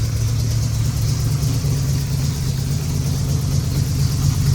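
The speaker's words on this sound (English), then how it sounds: "The engine is purring." A Shelby Cobra replica's engine idles on its own, a steady low rumble with an even throb that holds at a constant level, close and moderately loud, with no speech.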